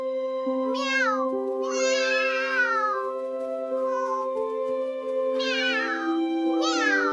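A cat meows several times in drawn-out, wavering calls with short gaps between them, close and clear over a soft, sustained musical backdrop.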